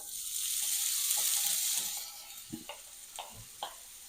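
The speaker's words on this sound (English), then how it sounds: "we'll let these cook for a few minutes, start to get them golden brown, releasing that beautiful bacon fat" Thick-cut bacon cubes hitting a hot pan, a close, bright sizzle that swells then settles, followed by a few scattered clicks and taps of stirring.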